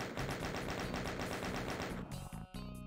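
Rapid automatic gunfire in the video game Doom II, dense continuous bursts at a fast steady rate over a few seconds, loud and unbroken before it briefly falters at the end.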